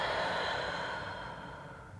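A slow exhale during yoga breathing in a hip-opening runner's lunge, a soft breathy rush that gradually fades over about two seconds.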